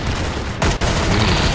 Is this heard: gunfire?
yes